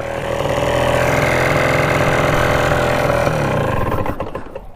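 Engine of a Rokon 2x2 two-wheel-drive motorcycle running steadily at a loud, close, even idle-like drone, with a brief dip in pitch near the end as it is shifted into second gear.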